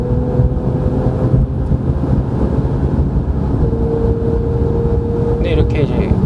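A Porsche 991 Mk2 turbo engine drones steadily from inside the car while driving, a low continuous hum and faint tonal whine mixed with heavy road and wind roar.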